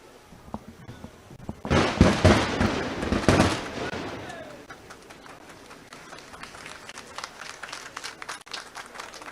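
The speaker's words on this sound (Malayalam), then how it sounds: "ജില്ലയിലെ തുരങ്കപാതയുടെ തുടക്കസ്ഥലമായ മറിപ്പുഴയിലാണ് ആദ്യത്തെ ബ്ലാസ്റ്റ് നടന്നത്." The first blasting explosion for a tunnel road construction at its starting site, heard as a loud, sudden burst of crackling, rumbling noise that lasts a couple of seconds and then gives way to a fainter stretch of crowd noise and voices.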